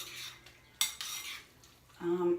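A spoon scrapes and clinks against a bowl while porridge is stirred, giving a few quiet metallic taps and soft scraping strokes close by.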